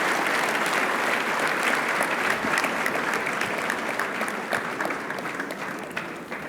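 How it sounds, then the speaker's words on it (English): Conference audience at a leadership event claps steadily, a dense wash of applause that slowly fades toward the end without any talking. "Give them a round of applause."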